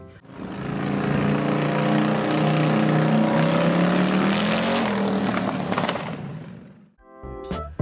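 A Harley-Davidson motorcycle engine roars loud and close, a heavy droning rumble that swells and shifts pitch for several seconds before cutting off abruptly, followed by a brief clatter.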